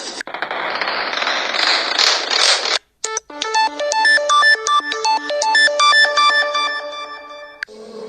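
A 3D-effect ringtone from a ringtone app opens with a burst of crackling, firework-like noise, then after a brief gap plays a bright, rapid electronic melody of stepped beeping notes, loud and alone.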